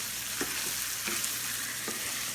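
Food frying with ketchup in a pan, a steady loud sizzle with a few soft scraping strokes of stirring throughout, no talk.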